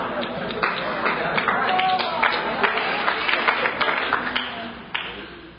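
An audience at an AA meeting claps and murmurs in a loose, uneven patter of applause, moderately close, with voices and laughter mixed into the room noise.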